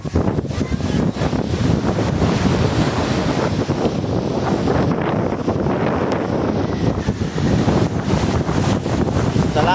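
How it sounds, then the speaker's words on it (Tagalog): Strong sea waves surging continuously against a coast under steady, gusting wind that buffets the microphone, loud and unbroken with no voices. "sobrang malakas ang alon dito sa amin"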